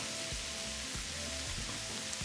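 Bacon mixed into a pan of fajita filling for tacos de alambre gives a steady, close sizzle, with soft rhythmic scraping bumps from the stirring throughout.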